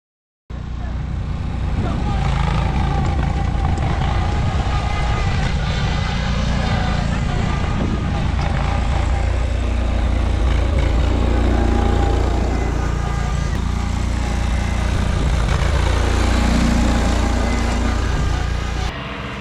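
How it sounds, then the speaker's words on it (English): Racing lawnmower engines drone loudly and continuously at an outdoor friendly competition, their pitch rising and falling as they rev, with a constant low rumble throughout. "the next event we're walking up to is the lawnmower race"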